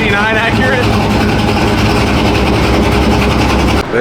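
Steady, loud engine roar from an LS-swapped 5.3 V8 in an old OBS Chevy pickup on big tires, run through a second-gear pull on a dyno, sustained throughout with a possible exhaust leak.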